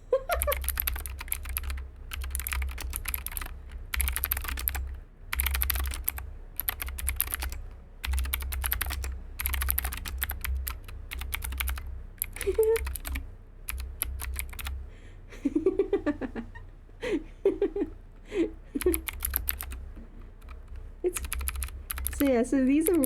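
Clicky computer keyboard typed in fast, loud bursts of keystrokes with short pauses between runs, a voice talking and reacting over the clatter toward the end.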